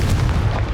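A Confringo blasting spell explosion in the wizarding game Hogwarts Legacy, a short heavy rumbling boom, loud and low with a dense, sustained body.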